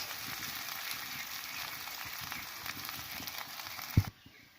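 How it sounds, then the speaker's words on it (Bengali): Two dried red chilies fry in hot oil with a steady crackling sizzle, near and fairly loud, ending with a bump and sudden quiet; no talking. "এখন দিয়ে দিচ্ছি দুটো শুকনো মরিচ।"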